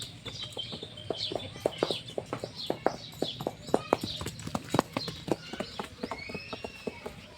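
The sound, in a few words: mare's hooves clip-clopping while being ridden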